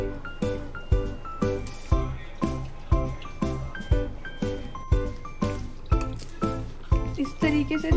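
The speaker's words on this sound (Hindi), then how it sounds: "अब हाथों की मदद से हल्का हल्का पानी लेते हुए हम इसका एक सॉफ्ट डो तैयार कर लेंगे।" Soft dough being kneaded by hand with water and oil makes a rhythmic wet squish roughly twice a second, close and sticky, and continues steadily throughout without talk.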